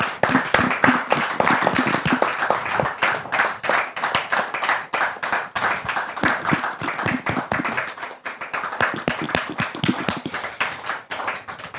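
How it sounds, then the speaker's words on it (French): Studio audience claps steadily to welcome Pastor David, many hands close and lively in a dense, continuous patter with no voices over it. "Et ce sera avec les applaudissements du public que nous allons recevoir le pasteur David"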